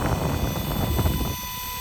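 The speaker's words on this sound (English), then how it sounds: "Look at this helicopter. Such a nice helicopter." A Blade 230s RC helicopter flies outdoors on a windy day, its whining rotor and motor buzzing steadily at moderate distance over wind noise.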